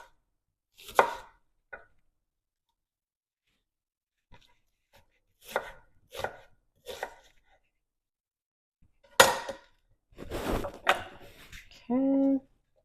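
Onion being chopped on a cutting board for garden salsa, a handful of sharp, separate knife thuds with pauses between, plus brief talk and a short mechanical hum at the end.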